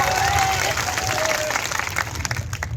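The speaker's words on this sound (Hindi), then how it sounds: "जोरदार ताली बजाओ" Crowd at a political rally in Tarahsi addressed by Chief Minister Mohan Yadav breaks into loud, sustained applause and cheering, clapping dense and close throughout, with a voice faintly audible beneath.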